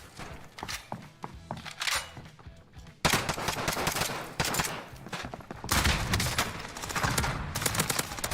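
MP5 submachine gun fire in the video game Call of Duty Cold War: rapid bursts of automatic shots crackle close and loud, broken by short pauses, with heavier sustained firing in the latter half.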